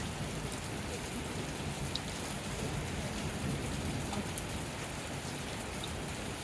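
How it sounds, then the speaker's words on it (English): Steady, dense rain during a storm pours down continuously, a broad hiss of drops striking surfaces with no pauses or talking. "I more or less want to make this video because I want to capture this rain"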